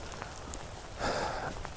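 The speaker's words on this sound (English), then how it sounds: "it's a cold and rainy day at Lake Fayetteville." Steady rain patters on surfaces outdoors at Lake Fayetteville on a cold, wet day, a dense continuous hiss that swells briefly louder partway through.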